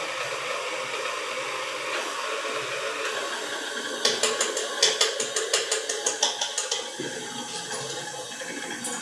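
Green food coloring is slowly mixed into brownie batter for mint chocolate chip brownies, with a steady mechanical whir that turns into a run of rapid rhythmic ratcheting clicks midway, loud and close.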